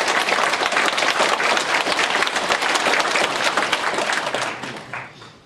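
A church congregation at a New Year's Sunday worship service bursts into loud, dense applause that holds steady for several seconds, then fades out.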